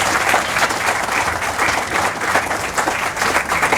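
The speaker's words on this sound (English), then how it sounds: "I would like you to give a big round of applause to the man who started this off, Mr. George Nelson" An audience claps steadily at the unveiling of a bronze model of the Alamo, dense sustained applause at even loudness throughout with no voices over it.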